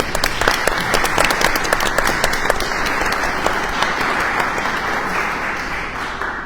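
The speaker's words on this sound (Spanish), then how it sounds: "Bienvenido, David, te recibimos con un aplauso." An audience at a panel discussion claps to welcome a panelist: a dense, even round of applause that holds steady, then fades slightly toward the end.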